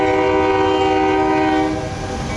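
A train rolls past with its horn sounding, a loud, sustained multi-tone blast held close by, then easing slightly toward the end over the rumble of the cars.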